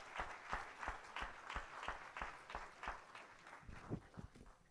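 A church congregation claps rhythmically in praise, steady evenly spaced beats, moderately distant and fairly soft, continuing throughout.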